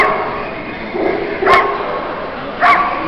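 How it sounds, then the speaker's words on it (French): Two sharp barks from male Belgian shepherd (Groenendael) dogs about a second apart, fairly close, over a steady low background hum with no talking. "On doit les appeler pour que ça aboie."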